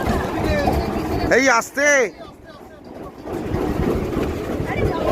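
A boat motors along the Ichamoti River near the India–Bangladesh border, its low engine drone and water rush running steadily beneath people talking close by.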